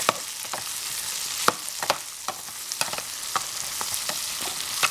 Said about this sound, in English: We're just trying to clarify the onions.